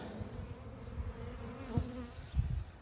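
A honeybee swarm near its hive gives a steady, droning buzz close by, with a few low thumps and bumps mixed in.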